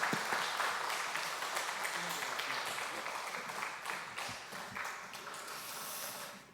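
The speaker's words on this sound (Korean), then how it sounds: "우리 선교사님 나오실 때 크게 박수로 환영하겠습니다" A church congregation at a Sunday afternoon service applauds to welcome a missionary to the front, a dense wash of clapping that holds steady, then fades at the end.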